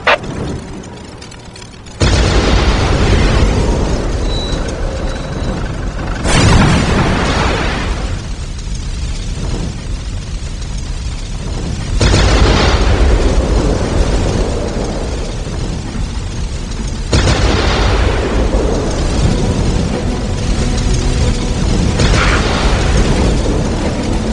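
Whirlwind artillery tank shells exploding in a Warhammer Dawn of War battle, loud sustained booming blasts that roll in several long waves, dense and close with rumbling low end.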